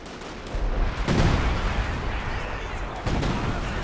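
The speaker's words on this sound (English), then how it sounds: "Artillery coming in over here." Artillery shells landing in a Company of Heroes 2 match, two heavy booming impacts about two seconds apart with rumbling tails, over a busy battlefield background with voices nearby.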